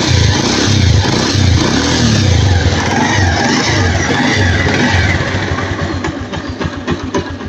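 A Bajaj Pulsar motorcycle engine runs loud and close, a steady throaty idle with rising revs, then rougher, choppier firing pulses near the end.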